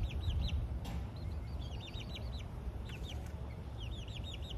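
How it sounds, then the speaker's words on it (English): Several Cornish meat chickens cluck and chatter in quick bursts, fairly faint, over a low steady background rumble in a backyard. "my beautiful chickens"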